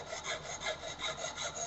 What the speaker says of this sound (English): this one specific type of filing is known as cross filing